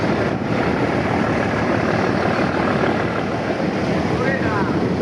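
A passenger river launch's engine runs as a steady, broadband drone with water and wind noise, heard close, while people talk over it.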